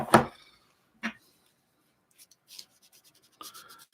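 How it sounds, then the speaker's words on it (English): A cotton swab rubs excess ink off a plastic 1/144 Zaku II Gundam model kit, making a few brief, soft scratchy strokes separated by quiet gaps, close and faint. "Just kind of rub it up and down. Just going to pick up the extra ink that's not ensconced in the plastic crevice."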